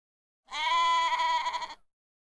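A goat bleats once, a loud, close, wavering cry lasting just over a second, heard alone against silence.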